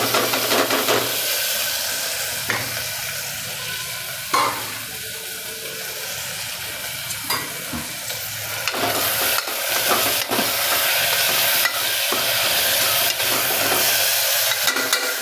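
Fenugreek leaves are stirred into garlic browned in oil in a pan for a Gujarati lasan methi shaak, with a continuous close sizzle broken by the scrape and clatter of a spoon.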